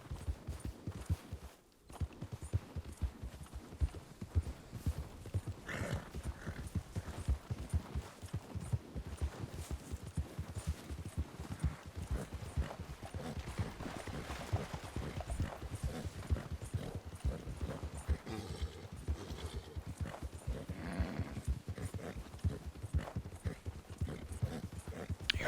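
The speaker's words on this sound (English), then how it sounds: "Your horse also goes just a little bit slower in snow" Horse hooves plodding through snow in the Red Dead Online video game near a partially frozen lake, a steady rhythmic clip-clop of walking steps throughout, close and even, with no talk.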